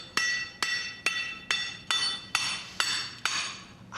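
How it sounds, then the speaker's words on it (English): A heavy hammer strikes an iron bore bar held against rock to drill a hole, eight sharp metallic clangs at a steady, even rhythm about half a second apart, close and clear with short ringing decays and no talk. "We were trying to actually push a hole into the rock using what they call a bore, a basic iron bar, usually about 3 feet long."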